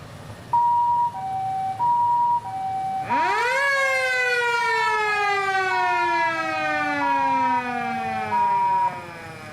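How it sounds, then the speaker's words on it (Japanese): A 2002 Nissan Elgrand ambulance with a 3.5-litre petrol engine runs its siren amplifier test: a loud, close two-tone hi-lo siren alternates steadily, overlaid midway by a rising then slowly falling wail sweep. "赤直灯とサイレンアンプの作動を行います。"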